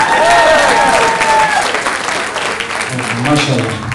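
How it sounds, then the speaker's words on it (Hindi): A comedy club audience at a live stand-up show in Glasgow claps loudly and steadily, while a performer keeps talking over the applause as it carries on. "ताली आसम आसम के लिए"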